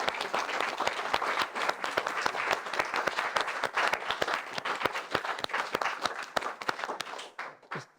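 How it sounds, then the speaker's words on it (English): An audience gives a round of applause, dense clapping from many hands that holds steady for several seconds, then thins and fades out near the end. "I think he deserves a round of applause."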